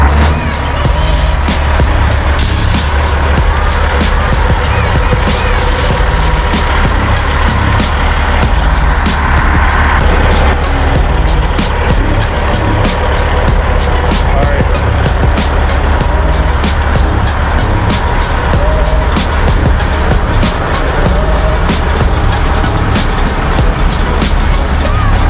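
Custom trucks racing side by side at a truck show, one hauling a load of pavers, producing a loud, unbroken engine roar with rapid pulsing throughout.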